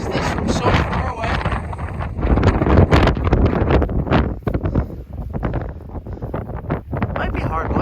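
Cold wind gusts outdoors on a mountain shed-hunting trip, roaring and buffeting the microphone loudly and unevenly throughout, rising and falling in strong waves.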